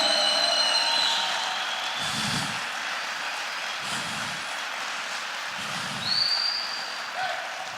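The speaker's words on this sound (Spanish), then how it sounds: "dele más fuerte ese aplauso a él." A church congregation claps steadily through the whole stretch, a fairly faint, even wash of applause with a few low thumps and a brief high tone now and then.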